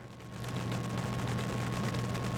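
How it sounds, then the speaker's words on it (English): A gunboat in a video game fires on a shock blaster, giving a dense, continuous barrage of loud booming blasts that roll together without pause. "it is almost time to start raining gunboat energy on the back shock blaster"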